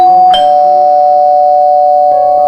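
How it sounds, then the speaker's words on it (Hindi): A doorbell rings at a home's front door, a loud sustained electronic chime tone that shifts pitch near the end. "तभी दरवाजे पर घंटी बजती है।"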